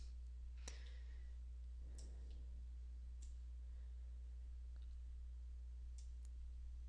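Faint, sparse computer mouse clicks tick at irregular intervals over a steady low electrical hum while domains are selected and saved.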